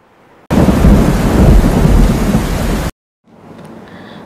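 Heavy rain with thunder over rural Lathi in Amreli district: a loud burst of rumbling downpour fills about two and a half seconds, then drops to a softer patter of steady rain.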